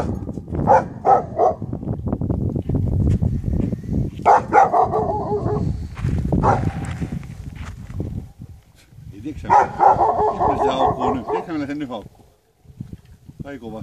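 A dog barks at a cabin in repeated loud bursts with short pauses, close by, mixed with people talking over and between the barks.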